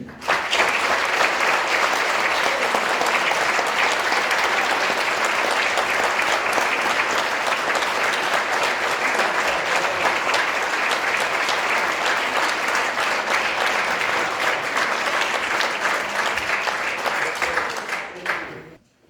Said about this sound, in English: help me give a big round of applause